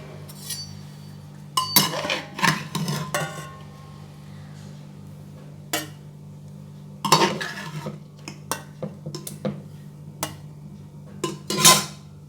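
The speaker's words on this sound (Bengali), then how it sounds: "সিদ্ধ করে নিয়েছি এবার জল থেকে এগুলো আমি তুলে নেব" Boiled raw bananas lifted out of the water in a kitchen pot, heard as scattered metallic clinks and scrapes of utensil against pot in irregular clusters over a low steady hum.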